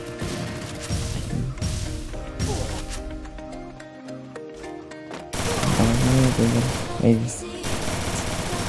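Dense battle royale gunfire with bursts and a heavy blast from a grenade thrown by the player, loud and continuous through the whole stretch, a louder explosive crash toward the end.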